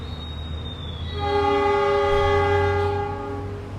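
A Pandalungan passenger train on the Jember–Jakarta run rumbles steadily as its horn sounds one long, loud, sustained blast over the rolling noise, heard close with no talk.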